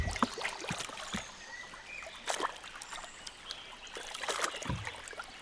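A small boat gliding through water in the wild, with soft trickling and lapping at the hull, faint paddle-like splashes and drips, close and quiet with no talking.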